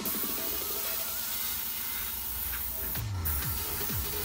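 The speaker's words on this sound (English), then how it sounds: "now I'm going to use my airbrush and paint the model with the main color" Airbrush spraying thinned dark yellow paint onto a Tamiya Panzer V scale model, a soft steady hiss running throughout at close range with a faint handling rustle near the end.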